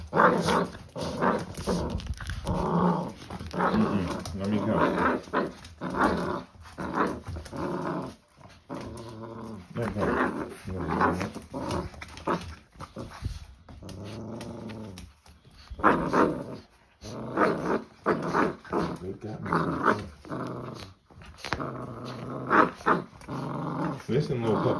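A puppy growls and snarls repeatedly while tugging on a shirt, up close, with its rumbling growls mixed in among someone talking throughout.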